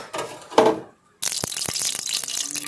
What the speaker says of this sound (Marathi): तिच्यावर आंबटपणा निघून जाण्यासाठी थंड पाण्याने पुन्हा धुवा लागते